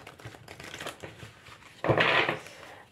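Tarot cards handled close up: a quiet run of light papery flicks and taps, then a brief louder shuffle burst near the end.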